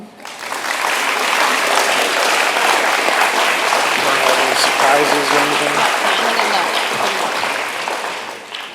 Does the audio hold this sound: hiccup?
no